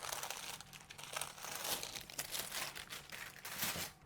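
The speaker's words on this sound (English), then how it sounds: "All right, I'm gonna cut some little pieces off." Foil crinkles and crackles as small pieces are cut from it for a mixed media art project, a close, faint, continuous rustle with no speech.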